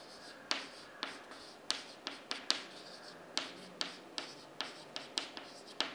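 Chalk or marker writing on a board during a database lecture, a quiet series of short tapping strokes and scratches in an uneven rhythm, close and alone without speech.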